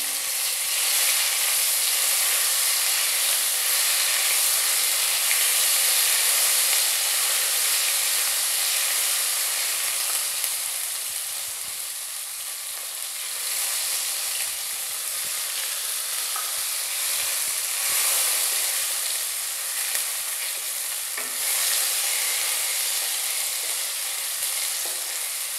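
Green chili and garlic paste fries in a pan, giving a loud, continuous hissing sizzle that runs steadily for about twenty-five seconds, easing slightly midway, with faint stirring clicks and no talk.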